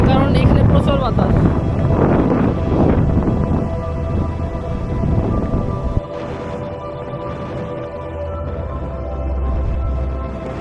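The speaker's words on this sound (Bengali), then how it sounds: "আমার কথাও শোনা যাবে না ক্লিয়ারলি, কারণ এখানে প্রচুর বাতাস।" Strong wind gusts roar across the microphone beside a river at Chandpur, a loud continuous buffeting rumble that dips and surges, with a voice talking over it throughout.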